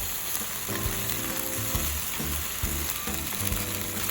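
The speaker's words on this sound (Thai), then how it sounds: "แล้วก็เราจะรอให้ด้านหนึ่งเริ่มสุกนะคะ แล้วเราก็ค่อยพลิกอีกด้านหนึ่ง" Grilled chicken for a green curry burger sizzles steadily in a hot pan, a continuous close frying hiss with a few faint clinks and stirring sounds, no voices.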